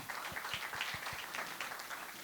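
Audience applause at a panel discussion during a conference, a steady wash of clapping from a crowd that holds level for a couple of seconds with no talk over it.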